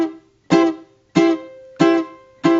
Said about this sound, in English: So when we strum the string and then take our fingers off, it sounds like this.